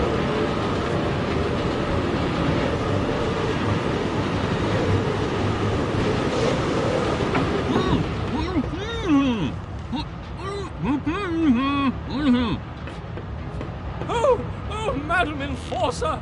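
A moving train in the video game Forgotten Anne gives a steady rumbling clatter that fills the first half, then eases under a mix of squealing tones and people talking.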